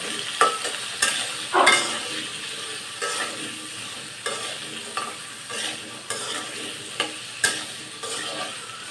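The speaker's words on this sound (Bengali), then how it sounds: "দিয়ে আমি আলুটাকে ভেজে নেব।" Potatoes fry in hot oil with a little salt, a steady sizzle under repeated spatula scrapes and knocks against the pan, each stroke arriving every second or so, with no talking.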